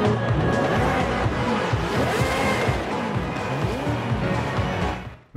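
Engine of an Aston Martin Valkyrie AMR Pro, tuned to 1000 horsepower, in Forza Horizon 5, roaring loud and steady through revs and shifts, with faint tire squeal, then cutting off abruptly at the end.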